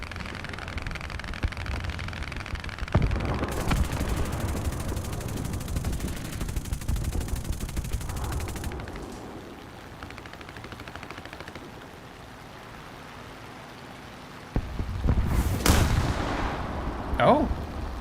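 Rapid anti-aircraft gunfire from a Flak Panzer 341 in the War Thunder game, a dense, loud burst of cannon fire over about six seconds, then a lull and another sharp volley near the end.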